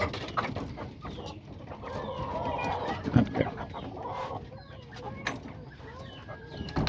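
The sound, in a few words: chickens and roosters clucking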